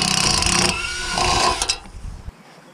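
A chainsaw with a freshly sharpened chain cuts through a big cedar log, a loud, close, buzzing whine that bogs down slightly and then cuts off abruptly.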